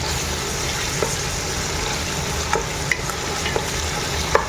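Mutton curry in a pan with a spoonful of ginger garlic paste is stirred through it, giving a dense close sizzle with a few light scraping taps and no voices.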